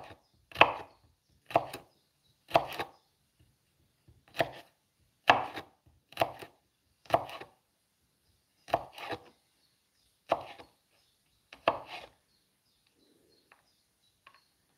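Garlic being chopped on a cutting board, about a dozen crisp knife strikes in uneven bursts with quiet pauses between, close and fairly faint, no talking.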